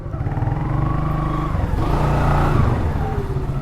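A motorcycle with a dead battery runs after being push-started, its engine giving a steady, close, throbbing drone that rises slightly in the middle before settling.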